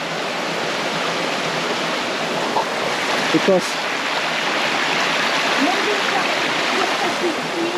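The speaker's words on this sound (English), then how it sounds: "yeah, that is the waterfall." Rushing waterfall and flowing stream on a slippery rocky trail near Tuy Hòa, Vietnam, a steady broadband roar that fills the whole stretch, with a brief word from a person partway through.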